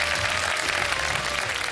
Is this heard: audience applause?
yes